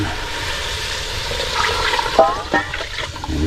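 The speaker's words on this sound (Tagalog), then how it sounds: "Tapos maglagay na po tayo ng tubig." Water pours and splashes into a pot for a few seconds, a rushing liquid sound ending with a couple of sloshes.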